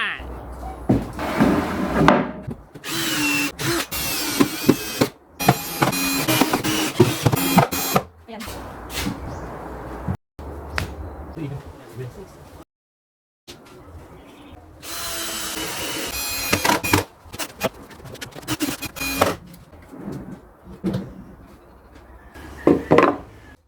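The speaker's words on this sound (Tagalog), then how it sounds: "Pag ganito nga po pala nakakakapal na mga kahoy gaya ng 2x2, the best itong gamitin, itong miter saw." A miter saw cuts scrap 2x2 wood for the legs of a slipper rack, with several loud whining bursts separated by short pauses and bits of workshop handling noise, up close.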